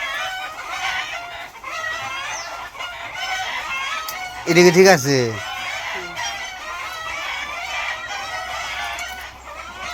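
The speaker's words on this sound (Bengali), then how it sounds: "মুরগিতে মানে ডিম পারছে, ডিম পারলে তো এরকম করে" A village hen clucks after laying an egg, a loud burst of rapid repeated clucks partway through, with people talking nearby before and after.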